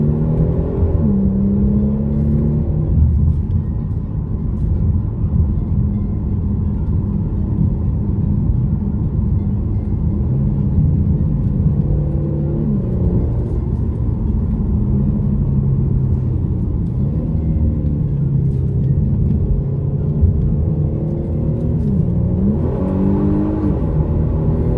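A 2022 Genesis G70 Launch Edition driven in Sport Plus with manual shifting, its engine rumbling loud and close from inside the cabin, revving up and dropping through several gear changes over steady road noise.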